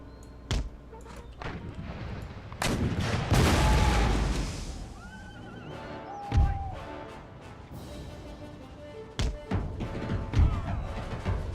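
Scattered booming cannon artillery volleys from a line of foot artillery in an Empire: Total War battle, several deep thuds spaced irregularly over a busy battlefield din.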